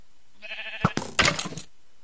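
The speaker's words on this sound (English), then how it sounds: "You hear the skeleton sound." A Minecraft skeleton being hit in the game, a short rattling clatter of bony clicks following a brief tonal sound, close and fairly quiet, with no voices.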